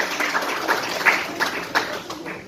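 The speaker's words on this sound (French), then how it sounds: "Est-ce qu'on ne peut pas l'encourager par des acclamations?" Short burst of church audience applause at a pastoral ministry celebration, with uneven, pulsing hand claps and a few louder individual claps standing out over a soft crowd background.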